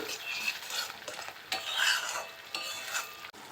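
Spice paste mixed with yogurt stir-fried in a pan for a vegetable curry, with a steady soft sizzle and repeated scraping strokes of a spoon against the pan, close by and with no talking.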